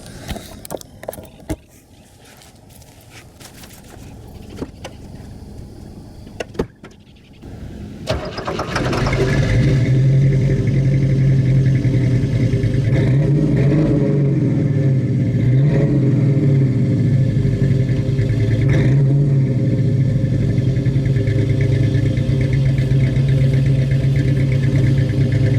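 A 1967 Camaro SS engine cranks and catches, then settles into a loud, deep rumbling idle with occasional revving swells, close up and continuing for over fifteen seconds without talk.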